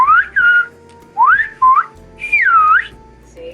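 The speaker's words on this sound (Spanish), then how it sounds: "lo mismo que decimos hablando, lo decimos silbando" Silbo Gomero, the whistled language of La Gomera, rings out close and loud as a series of sharp, gliding whistled phrases with brief pauses between them.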